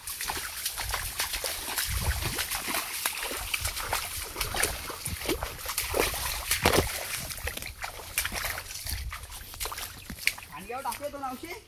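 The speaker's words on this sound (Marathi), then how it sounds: "पाणी आला भाई. बाहेर आला पाणी." Water splashing and sloshing in a tidal creek while people wade in to catch crabs, broadband churning bursts under intermittent talk.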